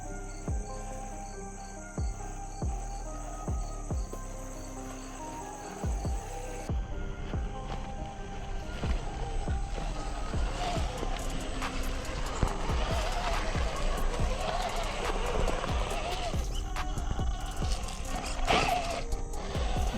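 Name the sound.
RC crawler with brushed motor driving slowly in low gear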